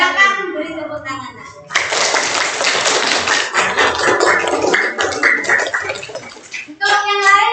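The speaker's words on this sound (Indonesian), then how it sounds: "Silakan beri tepuk tangan" A group claps for several seconds after a participant's reflection at a teachers' social-emotional learning session, the dense patter bracketed by a speaking voice before and after.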